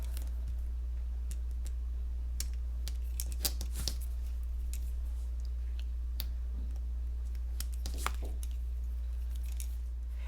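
Cricut heat-transfer vinyl being peeled and picked with a weeder tool, giving small scattered clicks and crisp ticks over a quiet steady background hum, with no talking.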